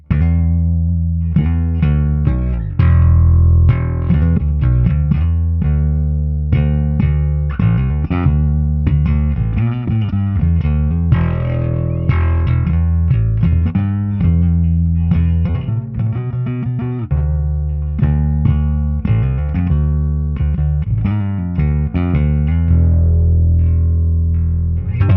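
Fender Precision bass on flatwound strings, neck pickup and tone wide open, playing a steady, loud run of notes with a round, thumpy low end alone for about 25 seconds, with no talking.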